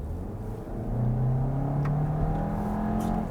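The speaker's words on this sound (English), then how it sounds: "I'm just going to floor it." A 2022 VW Tiguan R Line accelerates at full throttle from inside the cabin, its engine note rising steadily in a loud, continuous drone with a faint click partway through.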